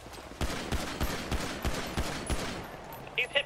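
Gunfire rattles through a video game shootout, about eight sharp shots in a fairly steady rhythm, with faint voices in the background.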